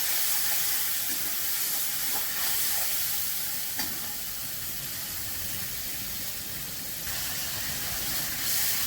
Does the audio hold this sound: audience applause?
no